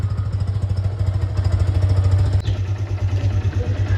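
A motorcycle engine idles steadily up close with a low, even throb and a light mechanical clatter, running continuously without revving.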